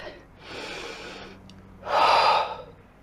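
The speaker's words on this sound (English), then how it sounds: "Take a deep breath." Two audible breaths during an exercise session, a softer inhale followed by a louder, deeper breath drawn in sharply, close to the microphone with no talking.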